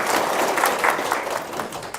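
Audience at an Islamic religious talk breaks into steady applause, a dense mass of many hands clapping at a fairly even level throughout.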